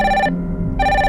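A phone rings with a scheduled fake incoming call, sounding as a loud, close electronic ring in two bursts split by a short gap.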